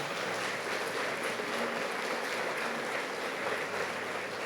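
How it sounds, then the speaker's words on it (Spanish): Congregation applause in a church, a steady dense wash of clapping that fills the room without a break, with no voices standing out. "ahí va el aplauso fuerte para el Señor"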